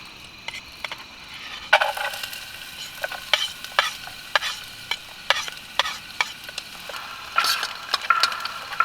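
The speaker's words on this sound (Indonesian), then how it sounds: "Sekarang kita tumis bawangnya duluan." Chopped shallots and garlic sauté in a pan at a solo campsite: a soft continuous sizzle punctuated by frequent sharp scraping clicks from stirring, fairly close and with no talking.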